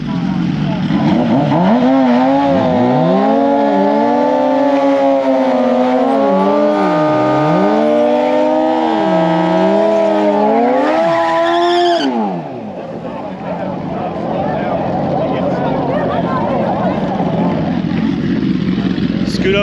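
A 2018 Suzuki GSX-R1000 motorcycle makes a drag strip pass. Loud, rising engine revs climb and drop through repeated gear shifts, then cut off abruptly as crowd murmur takes over.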